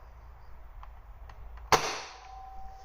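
A Nerf Longshot blaster fitted with a rifling attachment fires a single dart: one sharp, loud pop followed by a short decaying ring, after faint mechanical clicks of priming.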